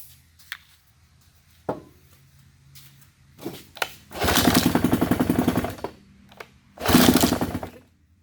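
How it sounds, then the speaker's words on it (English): Johnson 9.9 outboard motor, a sunken engine being revived, cranked on carb cleaner: sharp pull-cord clacks, then two bursts of loud sputtering running, the first about two seconds long and the second shorter, with quiet gaps between. "let's throw some carb cleaner in there and see if it'll fire off."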